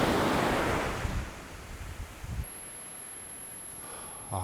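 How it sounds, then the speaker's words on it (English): Ocean waves roll in below a headland on a calm, reflective shore, a steady washing surge with wind buffeting the microphone, continuous and fairly loud with no voices. "These waves are rolling in just beautifully."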